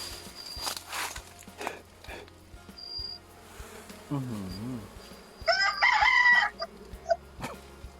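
A distant rooster crows once in a palm plantation, set against a steady insect buzz, scattered chirps and outdoor background noise.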